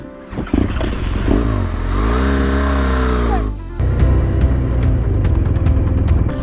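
A motorcycle engine revs up in a long rising-and-falling surge, then settles into a close, loud, rumbling idle with some clatter.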